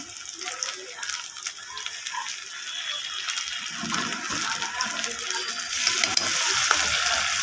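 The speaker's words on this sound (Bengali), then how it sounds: "মশলাটাকে আমি ভালো করে কষিয়ে নেব" A paste of ground cumin, garlic, ginger and chili sizzles and spatters in hot oil for a Bengali fish curry, with a steady close frying hiss and occasional stirring scrapes that grow louder toward the end.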